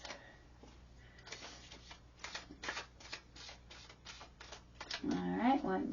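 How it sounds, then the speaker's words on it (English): Tarot cards are shuffled in a quick series of crisp riffling bursts, close up, ending with a brief murmur of a voice. "Give it a good shuffle because I pulled a lot of these."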